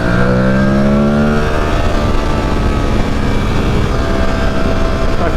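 Aprilia Tuareg 660 motorcycle engine on a ride on a chilly road, a loud steady drone that climbs in pitch early on, then settles into a constant hum with wind noise throughout.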